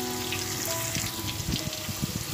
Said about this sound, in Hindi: अब प्याज को गोल्डन ब्राउन होने तक फ्राई करना है।